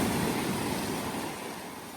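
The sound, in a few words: strong ocean waves crashing on rocks, Madeira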